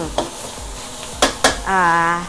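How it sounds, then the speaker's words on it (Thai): Drunken noodles with shrimp are stir-fried in a pan, with a few sharp clanks of a utensil over a low sizzle and a bright ringing scrape near the end, close by. "ใส่ลงไปเลยค่ะ ไปผัดเลยนะคะ"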